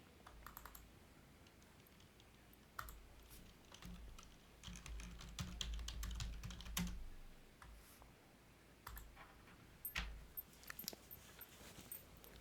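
Someone types on a computer keyboard nearby, producing quiet, irregular clusters of key clicks with short pauses between the bursts.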